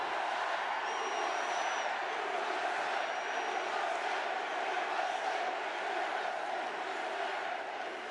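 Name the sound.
rally crowd cheering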